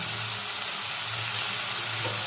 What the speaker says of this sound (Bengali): পেঁয়াজ রসুন বাটাটা তেলের মধ্যে একটু নাড়াচাড়া করে নিয়ে